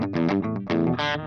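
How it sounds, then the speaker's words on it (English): Electric guitar played through a Quad Cortex solid-state clean amp model, a short burst of bright strummed chords with quick changes and some chorus-like shimmer, close and loud. "What this is a solid state clean amp."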